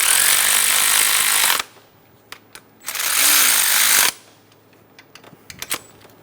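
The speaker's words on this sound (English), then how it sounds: "Snug down the bolts." Power ratchet snugging down the cam plate bolts on a 2003-2007 Honda Accord: two loud whirring bursts close up, the second shorter, then quiet clicks and tool handling.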